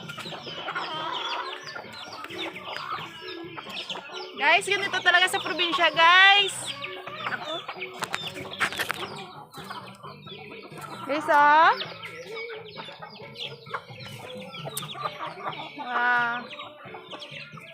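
Several chickens cluck and squawk in bursts nearby while someone talks over them.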